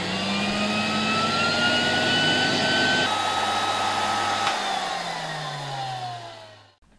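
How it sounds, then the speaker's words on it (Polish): SK-5b motor of a 1964 Alfa K2 Polish vacuum cleaner running, a loud steady whine that holds for several seconds, then drops in pitch and winds down as it is switched off. "W tym przypadku to jest odkurzacz Alpha K2 z rzeszowskiej fabryki sprzętu gospodarskiego, polski odkurzacz."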